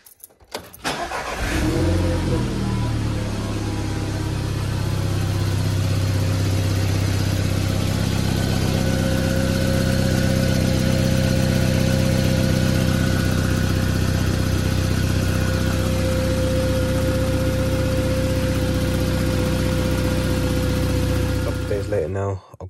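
A VW Golf Mk5 1.4 TSI with a decat downpipe and a torn flexi pipe starts on a cold day, then settles into a steady, loud, close idle for the rest of the clip.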